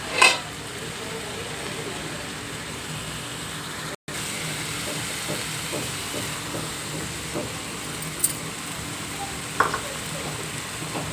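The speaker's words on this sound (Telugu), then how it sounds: "పచ్చివాసన బాగా పోయిందాక బాగా వేయించుకోవాలి." Ginger garlic paste fries in a pan for a potato kurma, giving a soft, steady hiss with occasional utensil scrapes and clinks.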